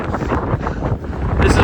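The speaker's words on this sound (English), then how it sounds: "I'm straight into the wind." Strong wind buffeting a microphone during an outdoor run past a farm pond, a loud, continuous low roar that surges and swells without letting up.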